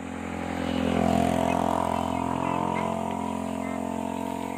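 A motorcycle rolls past outdoors, its engine rising to a steady, fairly loud drone that peaks and lingers before easing slightly, with faint background clatter and no speech over it.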